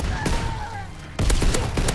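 A fighter plane strafing run in Call of Duty WWII: bursts of rapid machine-gun fire and booms, a loud volley at the start and a denser, louder burst in the second half, with no talking.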